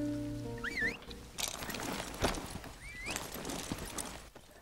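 Horses in a video game whinny twice, a rising squeal early and another near the end, with soft clip-clop steps and a steady game tone under the noise.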